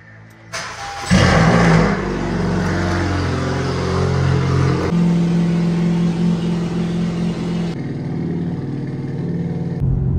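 A car engine cranks and catches, then revs up hard before dropping to a throaty idle with a couple of further blips of the throttle, loud and close by with no talking.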